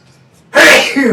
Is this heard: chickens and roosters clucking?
no